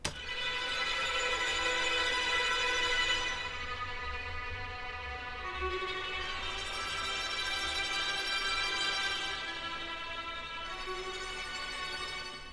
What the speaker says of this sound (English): Next up, I've added these strings.